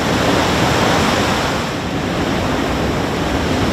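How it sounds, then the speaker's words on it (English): Ocean waves surge and splash up over a seawall into the street, a loud, continuous roar of surf with steady wind buffeting the microphone. "it's actually splashing up and coming over into the street behind me"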